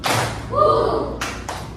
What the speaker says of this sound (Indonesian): Mulai, tepuk 1. Tepuk 2. Tepuk 3.